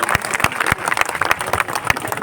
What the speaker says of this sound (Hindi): भाई साहब के लिए एक बार जोरदार तालियां आप लोगों से चाहता हूं